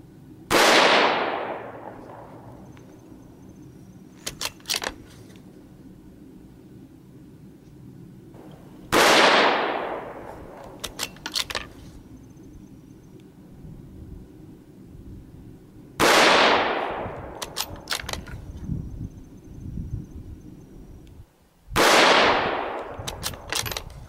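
A Tikka T1X bolt-action rifle in 17 HMR fires four sharp, loud shots of TNT green 16-grain ammunition, spaced several seconds apart. Each crack fades into a short echo, and bolt-cycling clicks and rattles fall between the shots.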